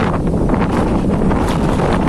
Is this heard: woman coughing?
no